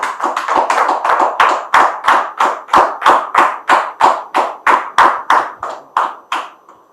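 Applause welcoming a guest onto a television show set, heard as a rhythmic run of about twenty sharp, distinct claps in a steady beat, close and loud, thinning out at the end.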